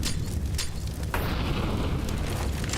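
Grenades exploding in a professional Counter-Strike tournament match, a heavy booming blast followed by a sustained roaring rumble of fire and debris, loud and close, with no speech.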